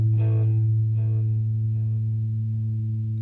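An electric guitar plays through a Boss Katana 100 combo amp with tape echo engaged, its strummed chord decaying into soft, fading repeats over a steady sustained low drone.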